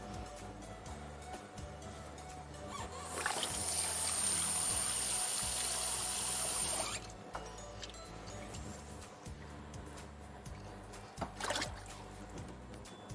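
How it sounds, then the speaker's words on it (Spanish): Cold water runs over boiled eggs to cool them for peeling, a steady trickle and gush that swells loudly for a few seconds in the middle, then falls back to a quieter kitchen background. "Los vamos echando agua fría."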